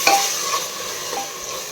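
Onions and other ingredients are stirred and mixed in a frying pan, with a soft sizzle under a brief scrape of the spoon at the start, close by and without voices.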